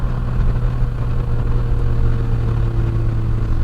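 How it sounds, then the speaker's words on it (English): A car engine with a worn clutch drones steadily and loudly close by during a heel-and-toe downshift, its tone holding fairly even with a slight swell, and no talking over it. "I can't go crazy because I still haven't replaced the clutch yet. Let's downshift."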